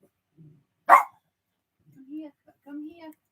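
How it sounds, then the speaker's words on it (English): A single sharp dog bark close by, followed by a few softer whines or yips in a quiet setting. "sorry about the dogs."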